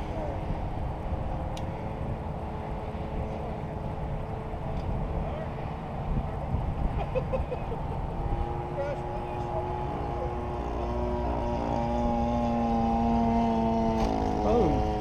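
E-flite Viking Model 12 280 RC airplane coming in to land, its small electric motor and propeller giving a steady droning hum whose pitch rises toward the end, with outdoor wind noise and people talking nearby.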